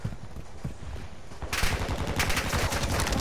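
Gunfire in a video game: scattered single shots at first, then a dense rapid burst of automatic fire breaks out and keeps going, loud and close.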